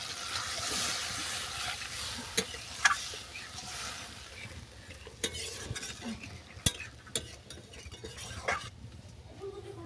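Water poured into a pan of well-fried spice paste with oil separating, for a moringa flower dish, a soft sizzle and bubbling with scattered sharp clinks of a spoon stirring against the pan, no talk.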